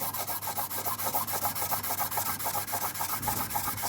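A UAZ Patriot engine bearing cap is rubbed back and forth on sandpaper laid on a flat surface, a close rhythmic rasping scrape repeating in quick regular strokes, with no talking.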